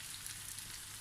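Bitter melon (ampalaya) sautéing in a pan with onion and garlic gives a soft, steady sizzle, faint and continuous with no talk.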